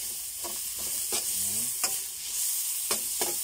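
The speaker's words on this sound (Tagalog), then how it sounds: "Haluin lang natin siya." Onions are stirred in a frying pan with a steady sizzle underneath and several distinct scraping strokes of the utensil, close and moderately loud.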